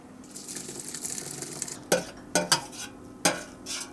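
Cooked Georgian red kidney bean lobio is scooped into a pot, with soft wet stirring and scraping followed by a few sharp spoon knocks against the cookware, close and fairly quiet.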